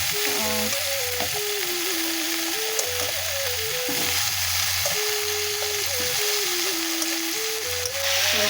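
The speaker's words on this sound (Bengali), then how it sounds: "কপিটা একটু নেড়ে দিই" Cauliflower pieces are stirred and fried in hot oil, producing a constant close sizzle, while a loud steady hum with a stepping pitch runs over it the whole time.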